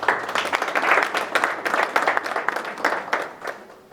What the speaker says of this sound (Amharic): እስኪ ለራቼ አጨብጭቡለት